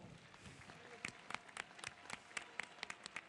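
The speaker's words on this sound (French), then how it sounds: "On l'applaudit bien fort." Scattered crowd applause at the finale of a Tir de l'Oiseau shooting contest, sharp individual claps standing out over a murmur of voices, fairly distant and quiet.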